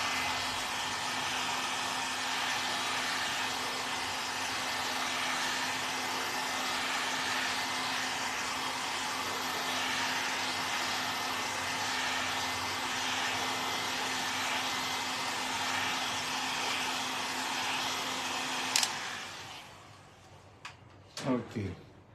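A hair dryer blows steadily and loudly while drying leather paint, a constant whooshing whir that stops near the end, followed by a few clicks and handling knocks.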